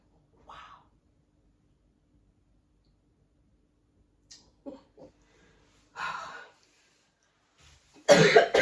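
Several short coughs and throat sounds scattered across near silence, ending in a louder burst of coughing close to the microphone.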